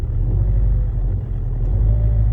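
A manual-transmission car's engine drones in a steady, loud low rumble as the gas pedal is pressed while the car starts on a hill in reverse, heard from inside the car with no break.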